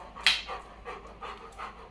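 A dog pants close by in quick, breathy puffs, several rapid breaths in a short burst with no talking.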